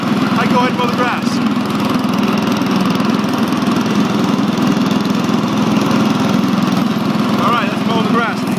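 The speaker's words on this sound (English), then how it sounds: "Now that the cutting blade's engaged, foot's still on the clutch, I go ahead and mow the grass." Loud, steady engine drone of a riding lawn mower with its cutting blade engaged while mowing grass, close and continuous, with a person talking over it.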